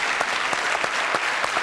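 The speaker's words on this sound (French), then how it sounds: "quelques applaudissements s'il vous plaît pour Ah ce oui," A studio audience applauds a magician's levitation trick on a television show, a dense, steady burst of clapping with sharp individual claps close by.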